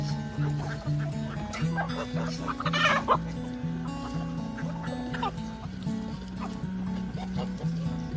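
Several chickens, young pullets in a chicken tractor, cluck and chatter nearby in a rhythmic, repeated pattern, with occasional louder squawks standing out from the flock.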